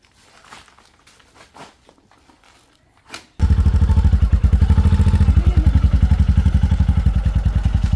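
A motorcycle engine starts abruptly after a few seconds of faint footsteps and small clatters, then runs loud and close with a steady rapid throb.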